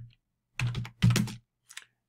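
Computer keyboard keys typed in a few short bursts, entering a chmod command in a terminal while configuring AWS; close, crisp clicks with brief pauses between groups and no talking.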